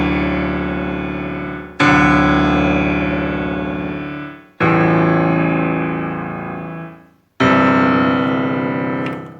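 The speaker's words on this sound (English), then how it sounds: "I will let you listen to the other piano parts." Grand piano parts played on a Yamaha PSR-S670 keyboard come through as three loud, sustained chords, each struck sharply and slowly decaying before the next, with no one talking.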